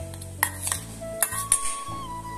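Tomatoes stirred into a parkia speciosa chutney with dry fish and chillies in a pan, a few clinks and scrapes of a utensil against metal spaced irregularly, close by, with a faint background hum and no talking.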